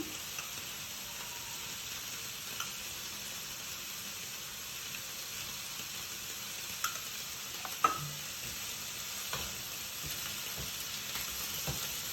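Brinjal pieces roast in oil in a pan for a Kannada-style eggplant chutney, giving a steady, soft, close sizzle with occasional small ticks and pops.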